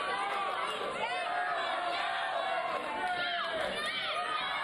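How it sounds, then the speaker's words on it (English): Wrestling arena crowd during a Jack Swagger versus Evan Bourne match, a steady roar of cheering and chatter with rising swells of shouts, heard at a distance under continuous commentary talk. "The crowd really into this match."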